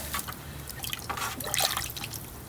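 Black walnuts being rinsed in water, with irregular splashes, drips and trickles close by and no talk.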